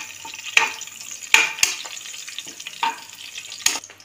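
Ingredients for a potato green pulav frying in a pan, a soft, continuous sizzle close by, punctuated by several sharp scrapes and knocks of a stirring spoon.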